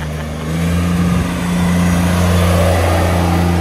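A Mercedes-AMG GT-R revs and accelerates hard nearby, a loud steady engine drone with strong low harmonics that swells and holds as it pulls away, no talk over it.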